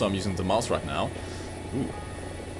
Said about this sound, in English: So, you can fly helicopters in simulator mode quite well.